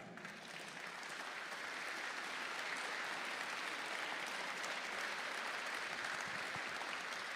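A large audience at a political speech breaks into sustained applause, a dense, even roar of many hands clapping that swells in the first second and holds steady without talk over it.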